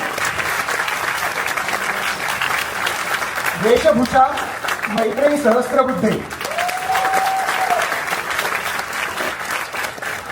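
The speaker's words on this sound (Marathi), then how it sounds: "केदार सोनपाटकी प्लीज आपण टाळ्या वाजूया." An audience at a Marathi children's play claps in steady, sustained applause throughout, while a voice announces credits over the clapping.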